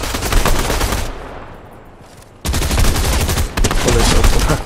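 Bursts of rapid gunfire from the video game Fortnite, loud and dense, broken by a brief quieter gap before the shooting resumes at full intensity.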